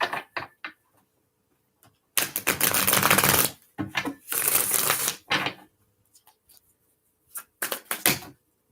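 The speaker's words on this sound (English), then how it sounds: "So I'm giving them a couple good shuffles." Brisk riffling of a tarot card deck, two long bursts of rapid flapping clicks with a few softer card taps before and after, close and loud.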